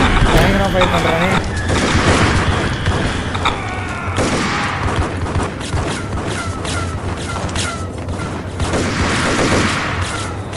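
Gunfire from the video game Max Payne, with bursts and booms packed densely across the clip under busy game effects and a voice talking over the action.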